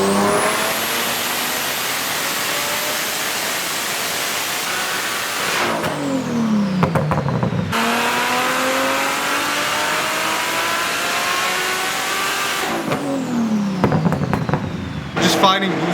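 A Toyota Supra on its stock engine revs hard on a dyno in two long, loud pulls, each rising in pitch before a sharp cut-off and a brief drop, recorded close with a strained, turbocharged roar.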